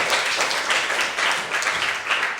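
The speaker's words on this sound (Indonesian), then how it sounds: "tepuk tangan dulu untuk ketua kelas kita" A classroom full of students claps enthusiastically, a brisk, dense round of applause that stays loud and close throughout.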